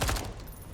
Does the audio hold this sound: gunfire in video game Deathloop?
yes